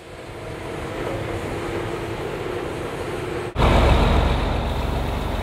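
A dump truck pulls away from a dirt road construction site, its engine a steady broadband rumble that jumps louder partway through as it accelerates off, with no talk.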